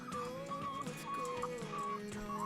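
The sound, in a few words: egg-laying hens clucking on a small farm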